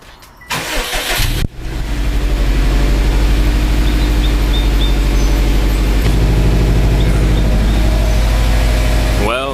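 A Subaru WRX engine cranks briefly, catches and then settles into a steady, loud idle with a constant low rumble that runs close to the microphone for the rest of the clip.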